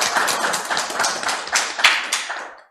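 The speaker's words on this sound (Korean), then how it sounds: "큰 박수로 한번 다시 한번 감사드리겠습니다" Steady audience applause at an academic conference, many hands clapping together in a dense, lively rhythm for a few seconds before tapering off, with no talk over it.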